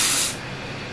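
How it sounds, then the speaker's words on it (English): Lace spray from an aerosol can, applied along a wig's hairline, gives one short, loud burst of hissing spray that quickly fades into a soft lingering hiss. "I'm going to just spray my whole hairline."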